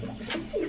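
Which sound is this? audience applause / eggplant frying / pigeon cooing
pigeon cooing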